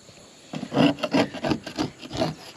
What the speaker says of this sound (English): We're just gonna scrape out the old stuff and go over it with some fresh.